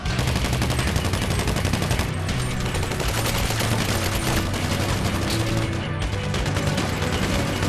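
A squad unleashes dense, unbroken automatic gunfire during a zombie attack in GTA 5, loud and close with overlapping rapid bursts throughout.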